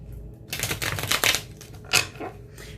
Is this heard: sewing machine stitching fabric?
no